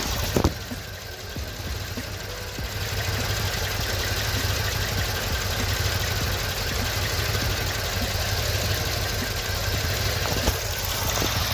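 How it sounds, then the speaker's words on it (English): Mercedes C63s AMG engine idling with the coils for cylinders 1 and 2 unplugged, a steady close rumble with a faint knock, unchanged throughout. "All right, I unplugged cylinder 1 and 2. Idle exactly the same."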